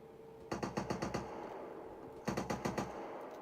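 Airsoft guns fire during an airsoft game in two quick bursts of rapid, sharp snapping shots, each burst about half a second to a second long, fairly close over a quiet outdoor background.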